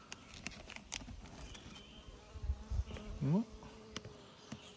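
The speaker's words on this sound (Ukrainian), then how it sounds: "Да, якась кількість бджоли тут є." Bees from a swarm buzz around up close as it is being caught, with individual insects droning past amid light knocks and handling noises.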